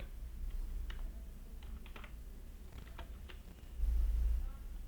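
Quiet, scattered clicks of a computer keyboard as a contact number is typed in while designing a poster, with light taps in short bursts over a low background hum.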